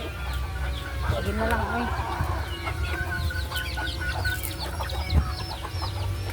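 Chickens in a rural backyard in the Philippine countryside cluck steadily at close range, with scattered higher calls and a quiet voice speaking briefly over them.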